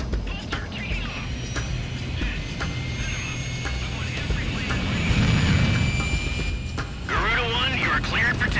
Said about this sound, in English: Garuda 1, you are cleared for takeoff.